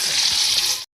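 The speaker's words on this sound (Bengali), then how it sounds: "এবার এখানে মাছ ভাজা।" Pond fish frying in a pan of hot oil at home, a brief dense hiss of sizzling oil, close and steady, cutting off abruptly.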